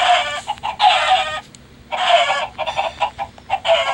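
Minecraft chickens cluck in repeated bright bursts, several close loud calls with short gaps between them, and no talking over them.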